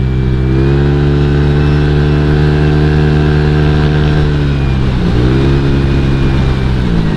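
Honda Vario 150 scooter engine pulling steadily during a test ride, a loud continuous mid-pitched drone with a brief dip in revs near the end before it climbs again.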